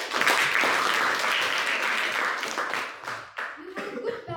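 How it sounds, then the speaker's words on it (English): Audience applause after a speech at a youth leadership meeting, loud dense clapping that fades after about three seconds as a voice and a little laughter come in. "I would like everyone to give a thunderous round of applause"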